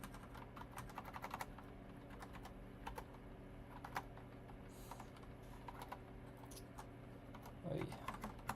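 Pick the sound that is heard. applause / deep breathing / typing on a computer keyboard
typing on a computer keyboard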